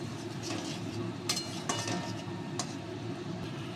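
Pointed gourd (potol) being stirred in a pan for a yogurt-based dish, with a few light spoon clinks and scrapes over a steady low sizzle, close and fairly quiet.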